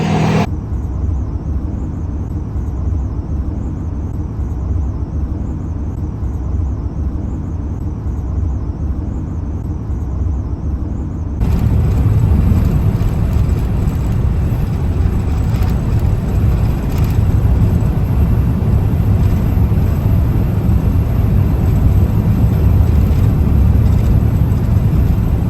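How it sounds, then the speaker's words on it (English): A car cruising on a highway road trip toward the Grand Canyon, a steady loud cabin rumble of engine and tyre noise that jumps louder and brighter about halfway through, with no voices. "we're just driving along, trying to get to the Grand Canyon"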